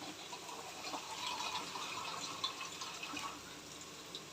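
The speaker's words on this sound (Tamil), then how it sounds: "அதுக்கு தண்ணி ஊற்றிக்கலாம்" Water is poured into a cooking pot for rasam, a steady splashing, gushing pour that continues close by throughout at a moderate level with no talking.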